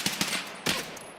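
Gunfire in a shooter video game: a quick string of several sharp shots followed by a heavier blast, fairly close and moderately loud, with no talking.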